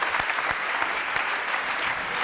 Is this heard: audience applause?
yes